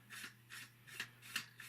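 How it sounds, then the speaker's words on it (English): Steel wool rubbed over a plastic Revell F4U Corsair scale model wing for weathering, making faint close scratchy strokes in a steady back-and-forth rhythm, about four or five passes. "you can give everything a little bit of a rub with the steel wool"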